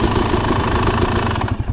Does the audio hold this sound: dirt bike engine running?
yes